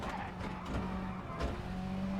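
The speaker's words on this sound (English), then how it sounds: "Definitely hear the gear changes. Those are the loudest thing about the car." A Group B rally car in the WRC 10 video game drives a stage with a steady engine drone, broken by a few sharp shifts where the pitch drops and climbs again.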